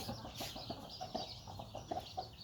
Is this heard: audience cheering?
no